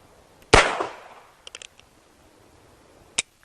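Heritage Rough Rider .22 caliber single-action revolver firing a single sharp, loud shot that trails into a short decay. Faint mechanical clicks of the action follow, then a final sharp click, with no talking.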